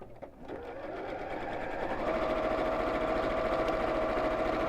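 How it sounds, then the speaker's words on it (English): A sewing machine sews around the bottom three sides of a fold-away tote bag with a quarter-inch seam, speeding up from a start into a loud, steady, close whirring hum with a fine rhythmic needle beat. "I'm simply going to sew around the bottom three sides, leaving the top side open"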